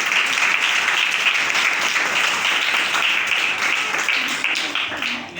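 Loud, dense applause fills a church as the whole congregation claps together, sustained for several seconds before easing slightly at the end.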